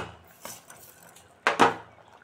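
A spoon clinks against a pot while sugar goes into simmering payesh, a Bengali rice pudding: one light tap, then two sharp metallic knocks close together, close and alone with no talking.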